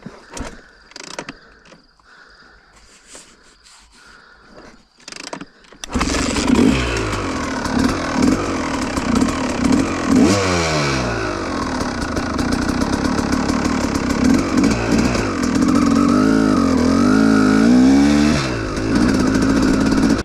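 A KTM SX 250 motorcycle engine stutters through a few rough bursts, then fires up and runs loudly, with repeated rising and falling revs over a steady ringing idle and no voices.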